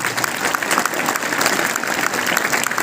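An audience at a school ceremony honouring a former student breaks into sustained applause, a dense, steady wash of many hands clapping close by for the whole stretch without letup.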